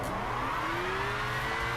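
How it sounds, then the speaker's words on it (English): Car engine in the Gran Turismo 5 racing game, steady high revving with a rising pitch sweep as the car slides and drifts, loud and continuous with no talk. "let's try some drifting here"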